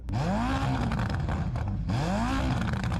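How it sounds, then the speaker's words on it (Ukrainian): A Ferrari SF90 engine revs twice, each a loud, close, rising roar that climbs in pitch and then drops back, with a short pause between the two blips. "То перш ніж ми поїдемо, ще раз послухаємо звук цієї Феррарі."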